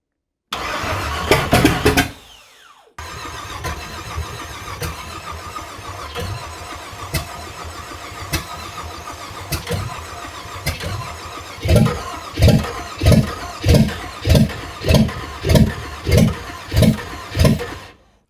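A Ford Galaxie 500 engine cranks and catches after a starter swap, running steadily before settling into a loud, rhythmic series of pulsing surges near the end, with no talk over it.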